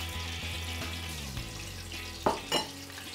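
Hot oil frying vegetable pieces in a pan, a steady bed of sizzle with a few low knocks and two sharper pops near the end.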